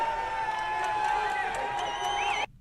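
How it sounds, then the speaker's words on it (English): A crowd at a UFC 279 press conference face-off cheers and shouts steadily, with whoops and whistles rising over a dense roar that cuts off abruptly at the end. "Crowd loving it."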